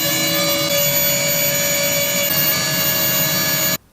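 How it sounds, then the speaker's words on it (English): A rotary tool fitted with a number 108 inverted cone carving burr carves a skull, giving off a close, loud, steady high-pitched whine that cuts off abruptly just before the end. "I'll be using a number 108 inverted cone carving burr to do that outline"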